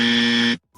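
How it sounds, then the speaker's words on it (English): A game-show style dummy buzzer sounds once, a loud, sustained harsh electronic tone for about half a second that cuts off sharply, followed by a faint brief trailing noise. "Give him the dummy buzzer"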